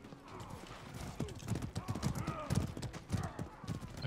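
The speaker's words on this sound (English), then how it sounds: "Okay, I think horse traffic's kind of picking up" Horses gallop in the medieval combat game Mordhau with a steady, close clip-clop of hooves and a brief whinny, under ongoing talk and game noise.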